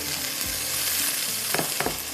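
Anda chana biryani masala with green chillies sizzles steadily in a pan as a spoon stirs it. A couple of distinct scrapes stand out near the end over the continuous frying hiss.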